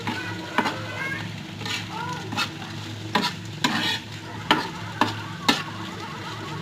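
Onion and chilli fry in a pan for noodles, a steady close sizzle broken by repeated sharp clacks of a utensil stirring and scraping the pan.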